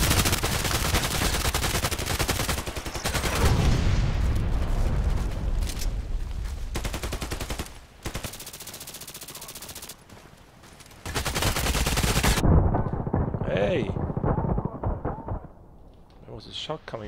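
Rapid automatic gunfire from an RPK machine gun in the online shooter game Contract Wars crackles in loud, dense bursts, broken by brief gaps, then fades to quieter scattered shots.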